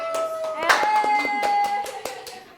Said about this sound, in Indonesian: kita kasih tepuk tangan buat Nadia.